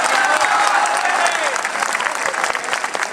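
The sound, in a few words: applause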